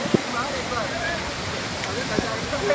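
Devkund Waterfall pours with a steady, broad rushing roar that fills the whole clip, while voices murmur faintly over the constant wash of falling water.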